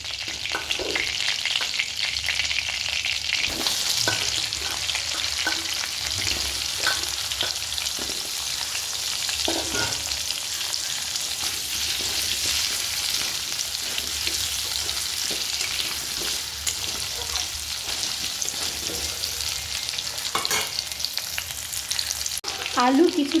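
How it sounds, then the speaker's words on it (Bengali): Cubed potatoes frying in oil left over from frying fish make a steady, close sizzle, with occasional stirring scrapes against the pan and no talking throughout. "এই আলুগুলোকে ওই মাছ ভাজা তেলের ভিতরেই ভাজবো।"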